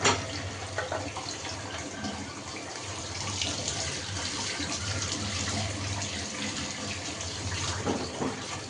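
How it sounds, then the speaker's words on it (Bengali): Vegetables are washed under a running kitchen tap, heard as a steady, close, continuous splash and rush of water with faint clattering, with no talk. "তো ভাজিটা আমি এখন ধুয়ে নিব,"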